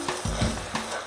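Sliced tomatoes drop into a hot pan of Brazilian moqueca, a fish curry with onions and peppers, setting off a short burst of close sizzling with a few soft stirring scrapes.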